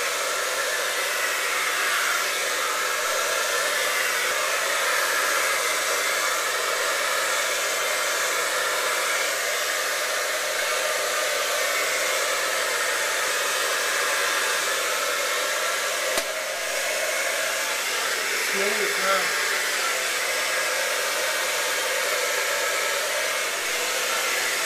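A hair dryer blows steadily and loudly for the whole stretch while hair is straightened and smoothed with a paddle brush, a constant close airflow roar with no talking.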